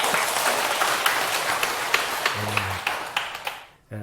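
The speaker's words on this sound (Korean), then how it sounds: "박수 한번 주세요" Dense audience applause, many hands clapping steadily before it stops abruptly near the end.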